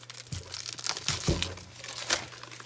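Plastic packaging around a 1/16-inch-thick cork sheet, bought for making a homemade gasket, is pulled open with a few close crinkles and rustles, no talking.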